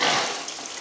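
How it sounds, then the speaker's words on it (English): A makeup brush swished in water after soaping, giving a short burst of watery rushing and splashing that starts loud and fades slightly in under a second. "Then I'm gonna put it in the water."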